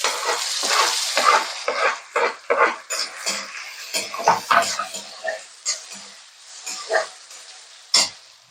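Food dropped into hot oil for a breakfast dish, giving a steady close sizzle of frying broken by repeated sharp stirring and scraping knocks in the pan, with a brief bit of talk.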